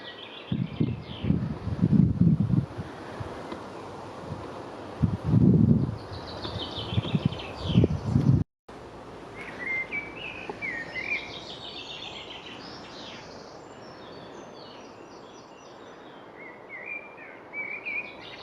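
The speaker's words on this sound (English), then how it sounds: "He's soon joined by a blackbird." Low rumbling bursts at first, then after a cut a blackbird's fluting song of varied melodic phrases rises and falls over soft outdoor background in Cornwall in June.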